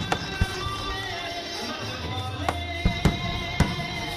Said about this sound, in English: It is followed by the grand fireworks at the place.